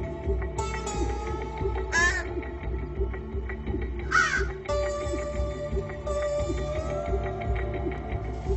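Young crows in Seattle, just fledged from the nest, give repeated harsh caws in short bursts over a steady low background rumble, fairly close and clear.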